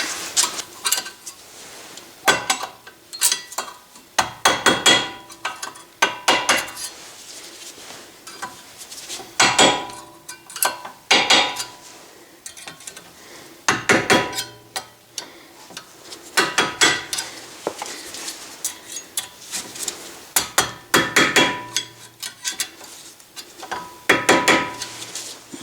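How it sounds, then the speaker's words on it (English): A hammer taps brake pad clips into a caliper bracket on a CX-50 front brake, sharp metallic clinks in irregular bursts, close and alone with no talking. "Let me get a hammer and tap those tinnies in there a little better."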